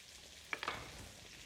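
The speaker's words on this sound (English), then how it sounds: "that is sizzling away." Sliced courgettes sizzle in a hot wok for a vegetable stir fry, giving a steady, faint hiss of frying with a couple of brief crackling spikes in the middle.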